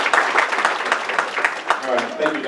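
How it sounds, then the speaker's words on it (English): A business meeting audience gives a round of applause, a fairly quiet spatter of clapping with a voice talking over it near the end. "So give him a round of applause, Corey."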